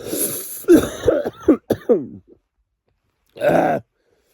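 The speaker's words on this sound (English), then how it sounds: "got this annoying cough that won't let me sleep." A burst of several harsh coughs in quick succession, then a pause and one more heavy cough, close and loud.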